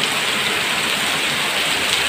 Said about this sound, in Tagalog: Lakas ng buhos ng ulan